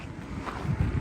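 Cool summer wind gusting outdoors on a walk through Stockholm, a short stretch of low, rumbling buffeting across the microphone that swells slightly toward the end.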